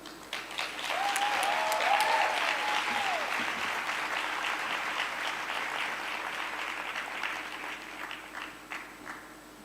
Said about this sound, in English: Please give Jasmine another warm round of applause